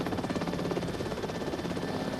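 Helicopter aboard a Royal Navy aircraft carrier, a steady rapid rotor thudding with a dense droning engine whine, loud and continuous with no speech.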